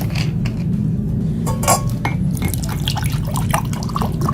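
Water poured from a cup into a pan holding lemon peels, a continuous close splashing and trickling with a few light clinks.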